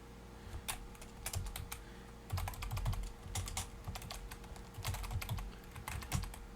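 Rapid keystrokes on a computer keyboard while writing code in a text editor, coming in uneven bursts of clicky taps with short pauses between them, close and clear over a low steady hum.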